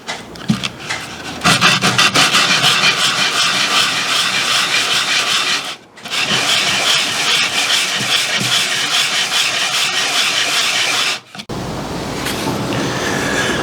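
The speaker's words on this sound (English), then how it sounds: "I've got some 120 grit sandpaper on this board. I'm just going to sand off top, bottom, sides" A patterned plywood box being sanded with 120 grit sandpaper gives a loud, steady scratchy rasp of long continuous strokes broken by two brief pauses, close up with no talking.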